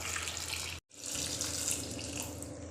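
Water pours steadily from a tap over half a kilo of washed potatoes in a pot, a continuous splashing rush broken by one brief pause before resuming.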